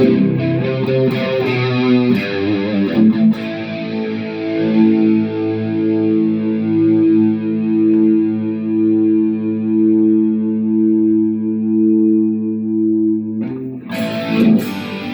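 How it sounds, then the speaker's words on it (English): A distorted electric guitar through a Valeton GP-100 multi-effects unit, chorus placed after distortion, rings out sustained chords with a wavering, swirling chorus, loud and close, with picked notes at the start and end. "so choruses, this is after the distortion. That's a lot of chorus."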